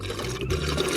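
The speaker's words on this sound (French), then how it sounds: "Je vais faire des bulles." Bubbles blown from a lollipop in a Toon Toon cartoon, a steady, bubbly, liquid fizzing that continues for the full second at moderate volume, with no talking.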